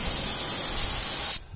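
Spray paint hisses steadily from a can onto a BMW E36 side mirror cover in a windy DIY setting, a loud continuous broadband spray that cuts off abruptly near the end.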